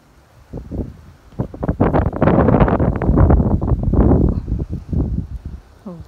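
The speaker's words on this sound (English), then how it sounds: "especially now that it's so windy" Strong wind buffets an outdoor microphone beside a flowering Stapelia hirsuta succulent, loud rumbling gusts rising and falling for several seconds.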